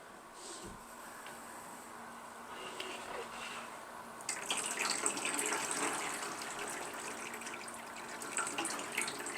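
Water runs into a tub holding indoor plants, starting as a faint trickle and then gushing louder and steadier partway through, close by with no talking.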